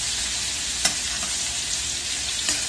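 Ahi tuna sears in a hot pan while being basted, a steady loud sizzle with a few soft spoon clinks over it.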